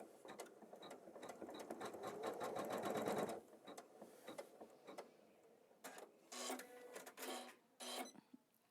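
An embroidery machine stitches a tree design on fabric with rapid, rhythmic needle chatter. A long continuous run is followed by shorter bursts with brief pauses between them, close and clear.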